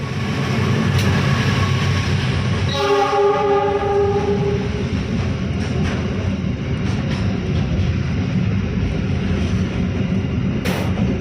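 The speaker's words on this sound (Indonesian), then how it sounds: "Jalur 6 barat kereta api angkutan barang akan melintas langsung." A freight train rumbles past close by at an Indonesian railway station, loud and steady, with a long horn blast early on and a continuous rolling roar throughout.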